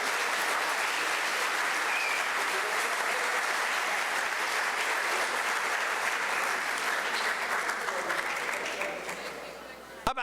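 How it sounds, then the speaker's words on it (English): A large audience at the 2013 Kentucky High School Basketball Hall of Fame induction gives sustained, dense applause for the inductees on stage, holding steady before tapering off near the end. "You give them one more great round of applause"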